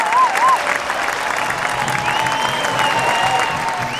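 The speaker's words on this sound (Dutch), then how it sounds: "Dan wil ik nu een daverend applaus voor onze dirigent." Audience at an amateur folk opera performance in Amsterdam applauds the conductor with steady, dense clapping throughout, a few whistles rising over the crowd and faint voices mixed in.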